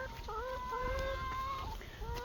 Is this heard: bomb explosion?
no